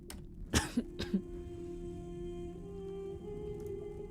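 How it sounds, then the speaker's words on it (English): A woman coughs three or four times in quick succession in a quiet room, short harsh bursts close to the microphone, followed by low background hum. "Sorry, I still have this cough."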